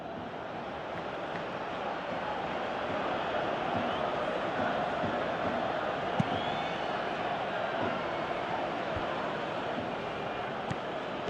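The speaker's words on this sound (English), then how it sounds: "you can hear how the crowd are reacting to this too" Stadium crowd noise from the football game PES 2018, a steady, broad roar of many voices that holds throughout with a couple of brief sharper spikes, quite loud and continuous.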